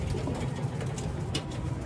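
Soft, low cooing from caged pigeons close by, repeating over a steady background hum.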